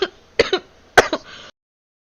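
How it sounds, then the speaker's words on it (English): A person coughing and clearing their throat during an online community meeting: two close, loud bursts of coughs, each a sharp hack followed by a shorter one, then quiet. "I started coughing there"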